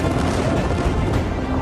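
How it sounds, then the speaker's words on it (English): A massive second explosion at the Beirut port roars as a loud, dense, continuous blast rumble filling the whole moment, broadband and close, with no voices. "A second massive explosion that some described as like an earthquake."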